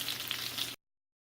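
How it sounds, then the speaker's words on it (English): Rabbit pieces browning in a frying pan, a faint steady sizzle under a second before cutting to silence. "you should see my rabbit. It is cooking."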